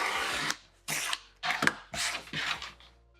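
Vinyl handbag lining being trimmed, heard as five crisp, rasping cutting bursts of about half a second each, separated by short pauses, close and fairly quiet.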